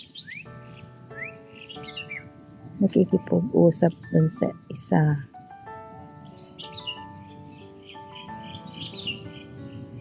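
Birds call at a pond at sunrise, giving short chirping phrases over a steady, high insect trill. A voice talks briefly in the middle.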